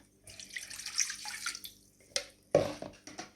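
Water splashes and pours into a bowl of sourdough starter in a few short bursts, close by, with quiet pauses between; no one speaks.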